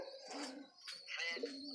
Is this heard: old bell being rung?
no